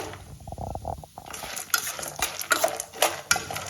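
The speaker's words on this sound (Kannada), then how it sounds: "ಅಷ್ಟು ಮಟ್ಟ ಅವೆಲ್ಲ ಡ್ರೈ ಫ್ರೂಟ್ಸ್ ಹುರ್ಕೊಳ್ಳೋಣ ನೋಡ್ರಿ" Almonds and other dry fruits roast in a pan while a spoon stirs them, giving irregular scraping and clinking strokes with a light sizzle, fairly close and with no talking.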